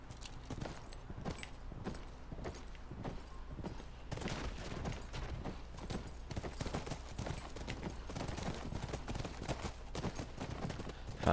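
Horse hooves clip-clop in a steady, quick rhythm throughout a ride in the video game The Last of Us Part II, fairly close and even, with no talk over them.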